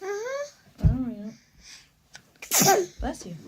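A small child sneezes sharply amid family chatter while out on a bike ride around Mackinac Island; a short burst stands out between babbling child sounds and adult voices nearby.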